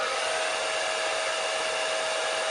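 A hair dryer blows a steady, unbroken rushing whir over watercolour paper as it dries the wet paint, close and constant from start to finish with no voices.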